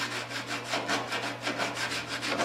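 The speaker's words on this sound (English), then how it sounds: "if it doesn't sand, then just fold the sandpaper on a different place and go again" Folded sandpaper rasps rhythmically back and forth over the wheel arch bodywork of a 1972 Triumph GT6, close and steady strokes with a low hum underneath.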